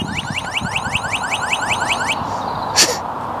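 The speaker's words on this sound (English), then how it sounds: "Very dramatic alarm." A DYU A5 folding electric bike's anti-theft alarm warbles loudly in rapid repeating chirps, then switches to a different tone with a sharp high blip near the end.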